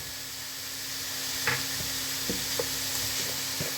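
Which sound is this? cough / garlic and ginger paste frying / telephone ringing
garlic and ginger paste frying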